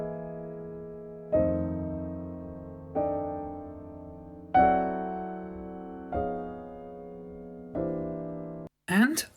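A grand piano recorded through a pair of old AKG C12 tube microphones plays six slow, sustained chords, each struck clearly and left to decay, close and alone, before a brief clipped burst at the end.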